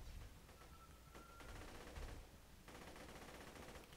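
Rapid bursts of automatic gunfire from a gun in Borderlands 2 crackle in quick succession, with a short pause before another sustained volley, fairly faint overall.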